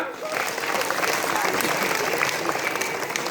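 Audience applause at a school Independence Day function at a government inter college, a dense, steady clapping crowd sustained throughout with some background murmur.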